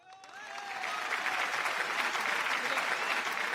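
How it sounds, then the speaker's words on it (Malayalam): Steady applause from a studio audience on a Malayalam TV comedy show, dense clapping that swells quickly and holds loud and even for several seconds with light crowd noise. "ഒരു നല്ല കയ്യടി."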